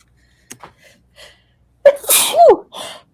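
A single sharp, close sneeze bursts out after a few soft breaths and small sounds, followed by a brief trailing exhale.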